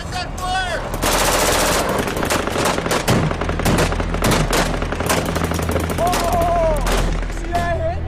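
Combat gunfire in the Afghanistan war, loud bursts of rapid shots and automatic fire under a continuous roar, with shouted voices breaking through near the start and end.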